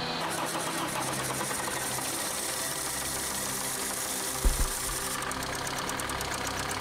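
A damaged engine in a driving video game cranks and struggles to start, a steady mechanical churn with a couple of brief heavier thumps near the end and no talking.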